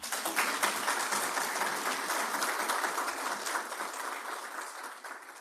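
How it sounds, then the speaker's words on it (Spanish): Audience applause at a conference on Ramón Matías Mella, a steady, moderately loud clapping from a room full of people that carries on for several seconds and fades slightly toward the end, with no speech. "yo creo que el aplauso fue tímido"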